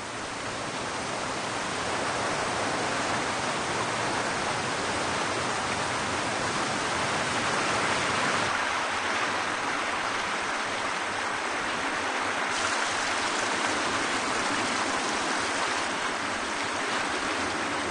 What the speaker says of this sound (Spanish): hizo que el río creciera 3 metros, arrastrando casi todo a su paso